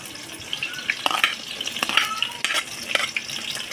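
Onion and tomato frying in oil in a pot over a wood fire, a busy crackling sizzle with repeated scraping stirs and metal clinks, close and fairly loud, with no talk.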